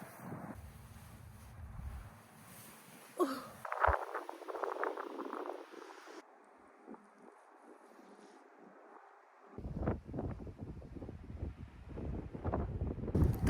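Strong gusting wind buffets the microphone outdoors on a short hike in Texas, with loud rumbling bursts that drop away midway, then return heavier and rougher near the end.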